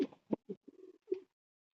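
Racing pigeons of a long-distance line coo in a short series of low, soft hums and a drawn-out murmur, close by and quiet, with no talk.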